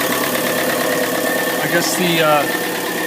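A Yanmar 4JHE 44 hp marine diesel engine, with recently dribbling fuel injectors, runs steadily at 1000 rpm in an even close-up chug while someone talks over it.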